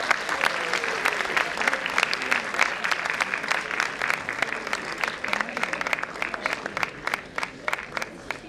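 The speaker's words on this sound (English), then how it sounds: "with a huge round of applause" Sustained audience applause at a music studio fest in 2018, greeting the drummer as he comes on stage; dense, steady clapping fills the whole stretch at fairly close range.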